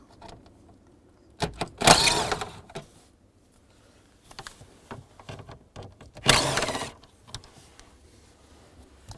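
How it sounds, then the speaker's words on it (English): A power driver with a 7mm socket backs two screws out from under a panel of a 2002-2009 Chevrolet Trailblazer, heard as two short whirring bursts close by with small clicks and handling noises between. "Underneath here, I'm going to take these two screws out. Use a 7mm socket."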